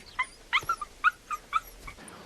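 A dog gives a run of high, yelping whimpers and short yips, about half a dozen quick cries spread over two seconds, fairly close with nothing else over them.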